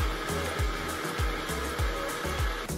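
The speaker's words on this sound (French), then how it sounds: "J'ai rajouté des flocons d'avoine pour avoir de l'énergie toute la matinée et un dernier coup de blender." Moulinex Eco Respect blender blending oat flakes, a loud steady motor whir with rhythmic thumping pulses about twice per second as the contents churn in the jar.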